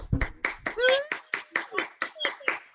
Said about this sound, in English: So give me a clap, clap, clap, clap, clap, clap, clap, clap, clap for Alyssa.